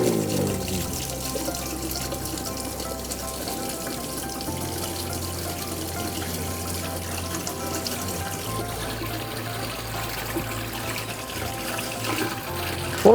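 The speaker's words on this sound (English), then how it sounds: "we want to make sure all the water comes out of the wells" Water drains steadily out of the wells of a food delivery cart through opened valves and hoses, a continuous close rushing and trickling flow with a low hum beneath, no talk over it.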